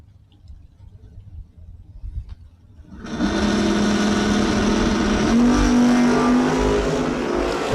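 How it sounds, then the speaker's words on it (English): Drag racing launch of a Chevelle and a 1967 Camaro at a Northwest shootout: after a quiet start, loud engine roar erupts and holds steady at full volume, with a rising tonal whine near the end. "Dave Wakefield, left lane down 592 for the Chevelle."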